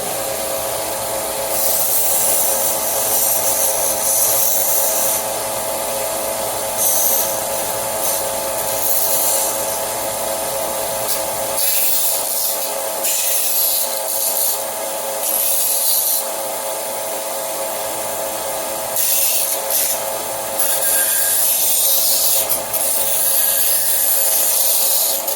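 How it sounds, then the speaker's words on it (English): An electric sander works a vortex generator part for an aircraft wing's leading edge, giving a steady, loud, close-up whirring grind with the abrasive rasp rising and easing as pressure shifts, running alone throughout. "Next thing, turn on your sander."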